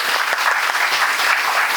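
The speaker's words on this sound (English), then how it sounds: "Please welcome her with a huge round of applause." Dense, sustained applause from a large audience welcoming a speaker at a college orientation program, a steady wash of many hands clapping at once without pause.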